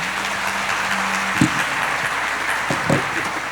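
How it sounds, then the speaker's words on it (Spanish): Applause from a seated audience at a panel talk, a steady wash of clapping that carries on for several seconds, heard from within the room. "Este aplauso es para ustedes, por supuesto."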